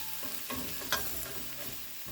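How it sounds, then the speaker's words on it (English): Chicken fajita filling being stirred in a hot pan with the flame off, giving a steady soft sizzle broken by a few close scraping and clinking stirs, with no talking. "Go ahead and turn off the flame and mix this together,"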